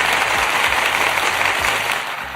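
A lone person claps for himself, a dense, steady patter of hand claps that fills the moment, close and fairly loud with no talk over it.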